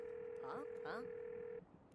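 A phone is dialed in the video game The Big Con: a steady electronic tone holds for about a second and a half, two short chirpy dial beeps sit over it, and the tone then cuts off, all quiet.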